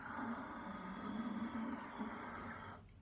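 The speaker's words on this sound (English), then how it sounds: "Soft, silky, whistling ujjayi breath, victorious breath" A long, steady ujjayi breath drawn through a constricted throat with the mouth shut, soft and whistling like an ocean hiss, fading out abruptly near the end.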